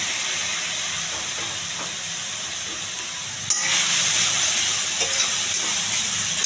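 Cooked red rice is stirred with chilli powder and coriander powder masala in a hot pan. A steady bright sizzle with soft scraping runs throughout and grows louder and denser after a sudden clatter partway through. Nobody speaks.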